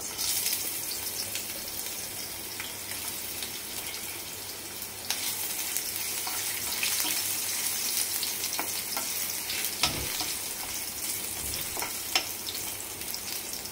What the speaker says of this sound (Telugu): ఆయిల్ వీటెక్కింది. ఇందులో ముందు అల్లం ముక్కలు వేసేసుకుందాం.